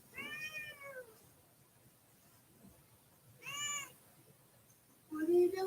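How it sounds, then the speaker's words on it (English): A cat named Hank meows three times close by in a quiet room, each call drawn out and wavering, with long silent gaps between them and the last one lower and louder. "hurry, record Hank's meows."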